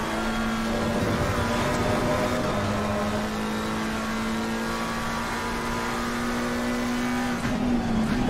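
McLaren race cars roar in a sim racing esports race at Valencia, a sustained high engine drone with steady pitch and other cars close around, loud and continuous with no talk.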